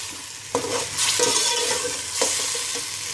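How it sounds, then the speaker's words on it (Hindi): Pickle, green chillies and whole garam masala are stirred in a pan, with scraping strokes of the spoon over a steady background sizzle, close and clear. "अचार, हरी मिर्चें और साबुत गरम मसाला और हम इसको अच्छी तरह से मिक्स कर लेंगे।"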